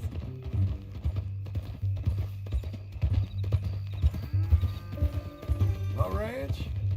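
Horse hooves clip-clop in a steady rhythm in Red Dead Redemption 2, under a voice and a low hum, ending with a short whinny-like sound.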